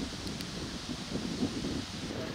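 Strong wind blowing across an open disc golf course, a steady, rough rumble that buffets the microphone with slight rustling, continuous and moderately loud for the whole stretch.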